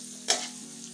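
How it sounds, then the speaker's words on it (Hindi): Onions hit four tablespoons of hot oil in a pan and sizzle in a short, sharp burst before settling into a steady, quieter frying hiss. "सबसे पहले हम इसमें ऐड करेंगे अपने अनियन। और इनको अच्छे तरीके से भून लेंगे।"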